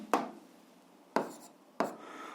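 Three short, close scratchy strokes of a pen or pencil writing on paper during an algebra lesson. Each stroke is quick and fades fast, with uneven gaps between them.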